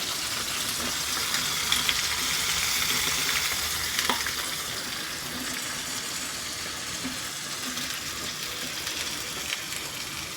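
Green chillies and ivy gourd pieces fry in a pan with a dense, steady sizzle heard up close, with occasional stirring scrapes and no talk.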